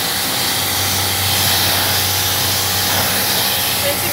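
A pressure washer sprays a car in its first wash after a restoration, making a loud, steady, broadband hiss of water jetting against the bodywork. The hiss runs without a break for the whole stretch, close by and unaccompanied.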